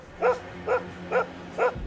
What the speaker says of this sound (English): when he introduced us to his dangerous dog